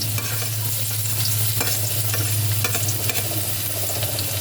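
Garlic sautéing in a pan for pork giniling, a steady close sizzle with faint stirring scrapes and a low hum underneath, no talking.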